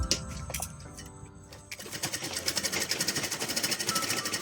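A sewing machine stitches a bag from an old jute sack, starting with a few short bursts and then running in a fast, even mechanical rattle, close and clear.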